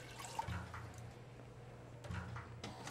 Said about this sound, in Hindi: और पानी, पानी भी थोड़ा सा ऐड कर लेते हैं।